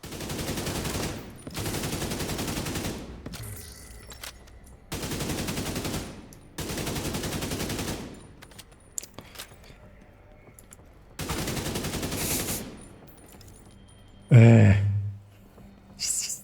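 Bursts of automatic gunfire in a video game shooter, several sustained volleys of a second or two each separated by quieter gaps, with a sharp loud blast near the end.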